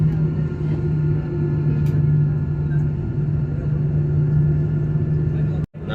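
Inside the cabin of a passenger airliner taxiing on the runway at Kannur, a steady low engine hum and rumble drones on evenly, broken by one brief thump near the end.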